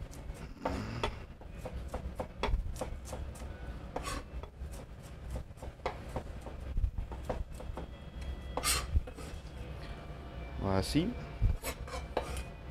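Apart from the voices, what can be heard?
red onions being coarsely chopped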